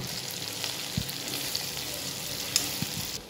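Okra and potato sabzi frying in oil in a pan, giving a steady close sizzle with a few light stirring clinks over it.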